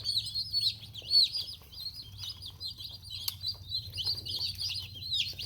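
Red Ranger and Cornish cross meat chicks newly arrived on a farm, a steady stream of high, rapid peeping chirps overlapping close by, with a low hum underneath.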